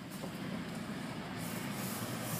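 CSX train passing a malfunctioning railroad crossing on U.S. Route 30, a close, continuous broadband rumble and rushing roar of rail cars with no clear breaks.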